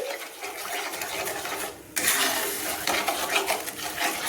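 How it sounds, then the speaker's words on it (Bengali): Mustard paste being stirred with turmeric and oil in a pan for sorshe ilish, soft metallic scrapes and clinks of a spoon against the pan, steady and close, without talk. "হলুদ আর তেলের সঙ্গে আমি পেস্ট করা মশলাটা আমি মিশিয়ে নিচ্ছি, একটু নেড়ে চেড়ে মিশিয়ে নিচ্ছি"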